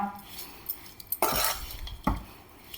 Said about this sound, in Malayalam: ഉപ്പ് ഒരു രണ്ട് സ്പൂണ് ആഡ് ചെയ്ത് കൊടുക്കുന്നു നന്നായി ഒന്ന് മിക്സ് ചെയ്ത് കൊടുക്കാം